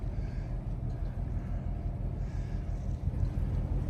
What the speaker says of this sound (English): Now both engines reverse. There, you pull right off the dock.